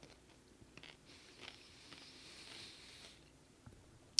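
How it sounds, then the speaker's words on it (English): A pickle is bitten and chewed close by, with faint, soft crunches and moist chewing over a quiet background, plus a sharp click at the very end. "you guys can probably hear this crunching pickle"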